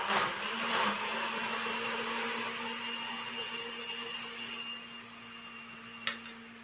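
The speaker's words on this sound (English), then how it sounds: "It's going to be blender coming on." A kitchen blender runs steadily with a whirring motor drone and broadband grinding, fairly faint and continuous, fading slightly toward the end before a brief click.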